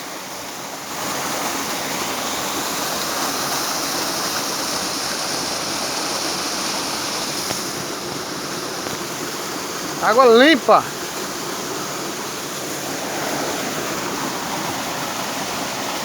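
Steady rushing water of Cachoeira do Ouro, a waterfall, fills the scene as a continuous broad roar, with a brief short burst of other sound partway through and a few spoken words.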